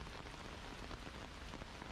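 Steady rain falling on surfaces, a continuous dense patter that stays even and quiet in the background.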